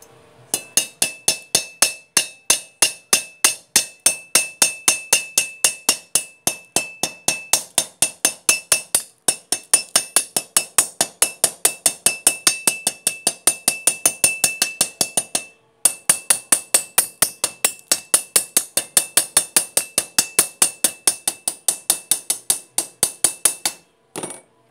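A hammer strikes a freshly made weld over and over, dozens of sharp metallic clinks in a fast steady rhythm with two brief pauses, loud and close with no talk over it.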